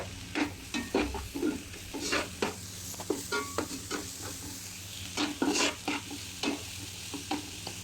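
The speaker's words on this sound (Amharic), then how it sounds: "እንደዚህ ነጭ ሽንኩርትና ዝንጅብሉን አብሬ ጥብስ ካረኩ በኋላ" Garlic and ginger fry with onion and fish in a pan for a fish stew, a soft sizzle broken by frequent rhythmic stirring scrapes and spoon taps close up.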